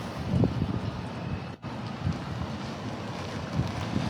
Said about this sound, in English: It's getting windy, y'all.